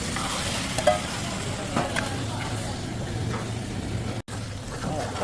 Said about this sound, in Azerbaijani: Qapağı açıq olduğu üçün pomidorlar yaxşı qızarır.